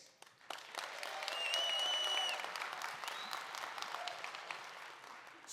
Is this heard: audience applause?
yes